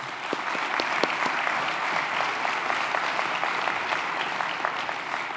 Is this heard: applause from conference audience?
yes